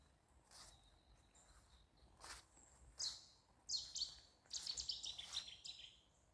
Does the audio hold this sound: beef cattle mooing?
no